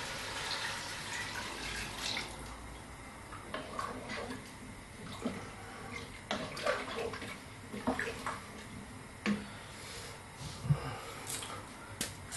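A litre of water is poured into a pot for lentil soup, a steady splashing flow that runs for about twelve seconds. It is fairly quiet, with a few small knocks and no speech.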